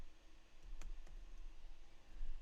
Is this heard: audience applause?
no